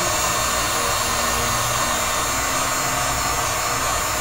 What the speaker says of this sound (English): The heat gun is definitely better.